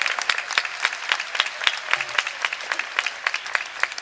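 A crowd gathered in the courtyard of the Temple of the Vedic Planetarium in Mayapur claps steadily, dense overlapping hand claps filling the space with no talk over them.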